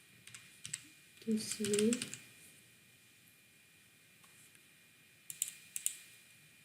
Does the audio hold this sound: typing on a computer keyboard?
yes